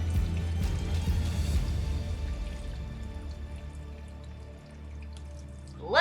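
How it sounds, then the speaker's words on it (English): RODI water is poured into a nano reef aquarium tank, a splashing, trickling fill that is strongest at first and then settles to a quieter, steady running. "Now let's fill the tank up. I have some nice RODI water."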